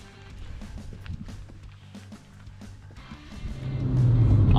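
A non-turbo Fiat Uno's engine rumbles nearby, then revs harder and builds steadily in loudness as the car accelerates, with some light knocking along the way.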